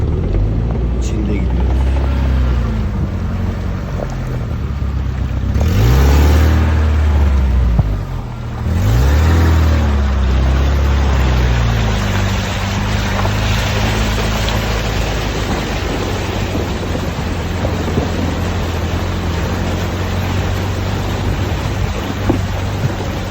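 An off-road vehicle drives through a flooding stream, its engine droning steadily under loud rushing and splashing water, with brief revving swells and someone talking over it.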